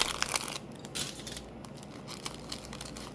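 A plastic bag is drawn out of a paper envelope during a mother-of-pearl mobile craft class, giving steady close crinkling and crushing rustles with brief louder bursts throughout, no talking.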